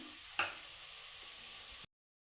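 Tempering for lemon rice fries in a pan: a steady, even sizzle holds for nearly two seconds, with one brief clink near the start, then stops abruptly.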